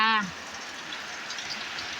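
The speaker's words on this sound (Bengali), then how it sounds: "এই তো প্রচুর বৃষ্টি" Steady, dense wash of heavy rain falling continuously, fairly loud and even throughout, with a brief voiced sound at the very start and no talk after.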